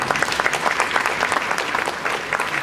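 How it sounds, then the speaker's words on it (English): A school winter concert audience of parents gives a big round of applause, with dense, lively clapping that stays strong throughout. "their parents deserve a big round of applause for coming out for 2 nights"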